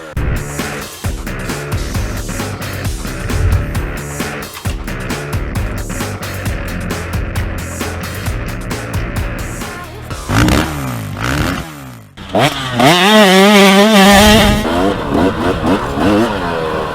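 A Yamaha YZ85 dirt bike is ridden by a child over a rutted track, its two-stroke engine buzzing and revving up and down loudly, with sharp climbing pitch sweeps as the throttle opens hard toward the end.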